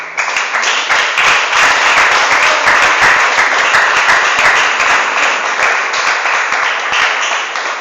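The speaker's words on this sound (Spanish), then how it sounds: "Ese aplauso a Cristo." Church congregation applauding during a Spanish-language sermon, loud sustained clapping from many people filling the room with sharp individual claps throughout, tapering slightly at the end.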